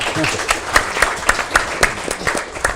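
A short burst of crowd applause at a town council meeting, many hands clapping steadily and fairly loud, with no talking over it.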